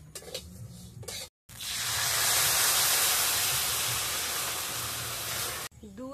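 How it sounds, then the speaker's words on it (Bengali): Milk powder mixed in water is poured onto fried vermicelli in a hot pan, giving a loud, broad hiss and sizzle that swells after a brief pause and runs for several seconds. "এবার আমি উপর থেকে পাউডার দুধ দিয়ে দেব,"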